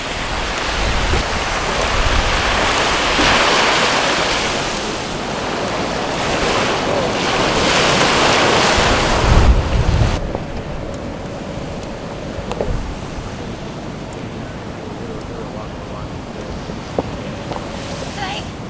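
Ocean waves wash in at Loblolly Beach under heavy, gusting wind. For about ten seconds the roar of surf is loud and dense, then it drops to a quieter, steady wash with a few faint distant sounds.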